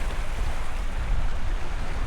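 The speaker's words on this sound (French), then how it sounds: "il y a un vent qui est quand même assez froid" Cold wind blowing in Banff National Park, a steady low roar and rush that stays loud and continuous throughout, buffeting the microphone with no voices.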